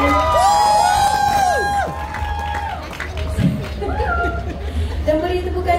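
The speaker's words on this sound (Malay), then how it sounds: "Berikan tepukan untuk diri anda semua" A large crowd at a Hari Raya stage event cheers and shouts, with high voices and children among them, loud and close, mixed with applause and a voice speaking over it.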